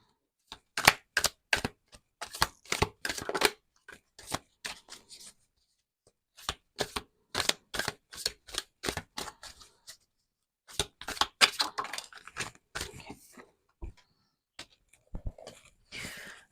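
Tarot cards being shuffled in quick bursts of crisp riffling and flicking, close and dry, separated by short pauses as cards are drawn and laid down.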